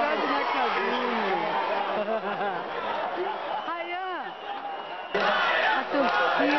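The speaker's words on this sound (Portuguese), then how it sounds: "A torcida, gente, gritando o nome do Raiam" At a Brazilian national American football team game, a large crowd of fans chants a player's name, loud and rhythmic with rising and falling voices that dip briefly before surging back.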